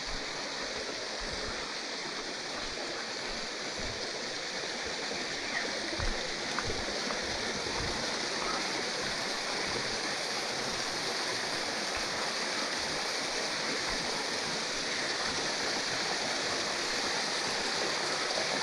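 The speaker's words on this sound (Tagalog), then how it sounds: "Yung talon dito." Waterfall and rocky stream at a spot in Bulaklakan, Lipa, a steady, even rush of water that stays constant and moderately distant throughout, with no voices over it.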